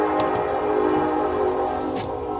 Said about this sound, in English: There goes the train. Being loud as usual.